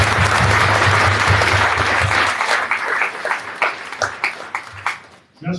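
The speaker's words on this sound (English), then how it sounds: "maybe a short round of applause for the fun candidates" A short burst of applause from the audience at a municipal election candidates meeting, loud and dense at first, then thinning into scattered individual claps before fading out.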